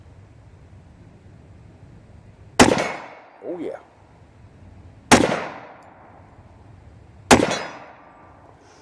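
.45 ACP rounds from a Springfield pistol strike a man-sized steel target outdoors, giving three sharp, loud gunshot cracks each followed by a ringing metallic decay, with a short voice heard between the first two shots.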